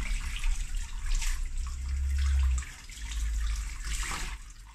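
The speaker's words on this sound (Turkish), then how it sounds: "suyla durulayın. Biraz bastırın suyla atarken." Running water rinsing hair at a barber's wash basin, a steady close splashing flow that swells and eases as the stream is moved, with no talking.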